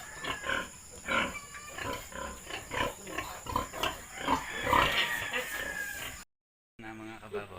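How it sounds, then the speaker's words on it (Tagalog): Mother pig with nine newborn piglets on a farm, giving repeated close grunts and squeals while a rooster crows in the background; audio cuts out briefly near the end. "Ang New Year blessing ni Mama Pigbait sa akin, 9 healthy piglets"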